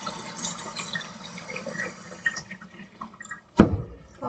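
Water is poured from a container into a cooking pot of poke salad greens, a steady splashing fill that is moderately loud and close. A sharper clatter follows near the end.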